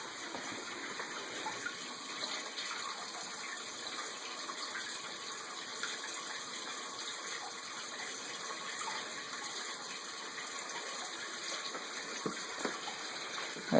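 Water gushes steadily from a garden hose filling a 75-gallon aquarium, a faint, even rushing that continues unbroken throughout.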